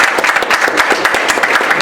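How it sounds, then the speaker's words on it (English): Close, loud applause from an audience at a parent advisory council meeting, with sharp individual claps distinct within a steady burst. "let's give a hand of applause"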